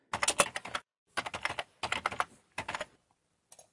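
Computer keyboard typing as a menu name is entered in the WordPress admin: four close, dense bursts of rapid keystrokes separated by short pauses, with no voices.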